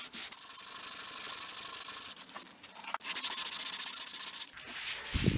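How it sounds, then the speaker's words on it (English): Sandpaper rubbing out a small divot in a wooden outdoor porch stair railing, a loud steady scratchy rasp in long strokes with a brief pause midway, close up and with no talking. "So I got to sand this out."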